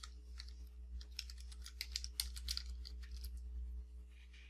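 Fingers tap quickly on a computer keyboard, a soft run of irregular close keystrokes over a steady low electrical hum, fairly quiet overall.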